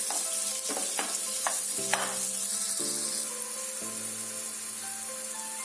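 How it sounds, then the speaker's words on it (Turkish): Continuous loud sizzling of green peppers frying in a pan for menemen, with occasional stirring scrapes and a faint background hum. "Bu esnada da yeşil biberlerim de kavrulacak."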